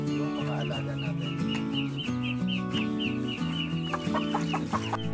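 Rhode Island Red hens, dark mahogany and regular mahogany birds in a free-range coop, cluck steadily in short repeated calls, close and fairly clear against a dense, continuous backdrop of other sound.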